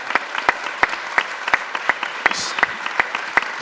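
Audience applause at a startup pitch event with business angels: a dense wash of clapping with sharp, evenly spaced claps cutting through in a steady rhythm, fairly close and sustained.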